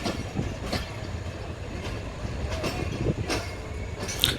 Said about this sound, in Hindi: और ये थी सम रैंडम ट्रेन।